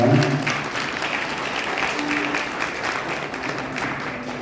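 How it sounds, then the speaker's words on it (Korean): Wedding guests break into warm applause at a ceremony, a full, continuous wash of many hands clapping that swells at the start and holds steady, with faint background voices. "뜨거운 박수 부탁드리겠습니다"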